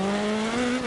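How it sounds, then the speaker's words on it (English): Rally car in Dirt Rally 2 sliding wide on the handbrake toward a bank, a loud steady engine drone with strained tonal whine and tyre scrub running throughout the brief moment. "pulled the handbrake and it just slid me out towards the bank"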